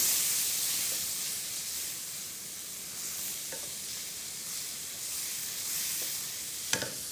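Beef kofte curry spices with a splash of water sauté in a wok with a steady hissing sizzle, with occasional faint spatula taps and one sharper clack near the end, with no voices.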